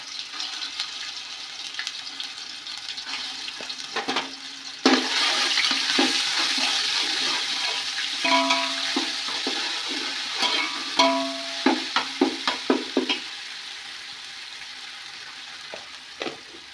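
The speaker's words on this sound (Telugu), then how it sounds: "అల్లం పేస్ట్ని ఇట్లా ఫ్రై చేసుకుంటా అన్నమాట" Ginger paste fries in hot oil with a continuous bright sizzle. Scraping stirs join midway and turn into a run of sharp clinks toward the end.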